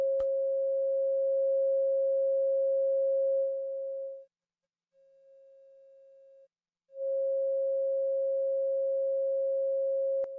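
A steady synthesizer tone from a SynthEdit patch held loud, then cut to near silence and brought back at a low level through a VCA, dropping out once more before returning at full volume, alone with no voices.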